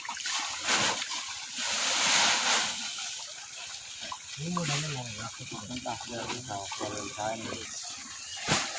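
Groundwater drawn up from below the ground gushes and splashes out loudly for several seconds, then continues more quietly beneath a person's voice.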